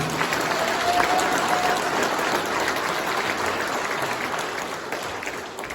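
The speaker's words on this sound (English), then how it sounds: "Give them a round of applause" Banquet audience at the Shadyhill opening ceremony breaks into loud, dense applause, a steady wash of many hands clapping that fades slightly over nearly six seconds.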